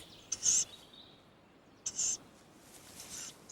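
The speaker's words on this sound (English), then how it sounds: "These tawny owlets are now just 3 weeks old, and their appetites are growing day by day" Three-week-old tawny owlets give two sharp, high rasping food calls spaced well apart, followed by a fainter third call, against a quiet night background.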